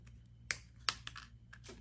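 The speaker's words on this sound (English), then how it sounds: "Then you can snip this off." Cutters snip paper wood earring material in two sharp, close clicks about a third of a second apart, followed by a few softer ticks in a quiet room.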